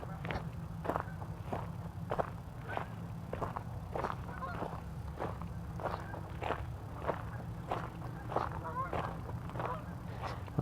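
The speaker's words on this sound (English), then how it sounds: "maybe you can listen to some geese" Geese honk at a steady, repeated pace from a moderate distance, each call short and nasal, over a low rumbling background and some rustling.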